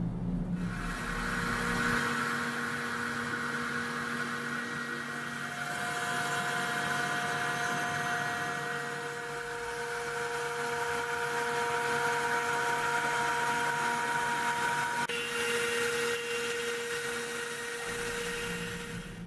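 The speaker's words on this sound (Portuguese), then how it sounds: "Agora nós vamos mostrar para vocês como é feito o trabalho de recorte do XPS em uma máquina Halter." A Halter machine cutting XPS foam gives a steady mechanical whine with sustained tonal hum lines and a shift in pitch near the end, running continuously for nearly twenty seconds with no talking.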